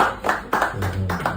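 Hands clapping in a small group at an official gathering, a few loose rhythmic claps close by in a short burst, with faint murmuring underneath.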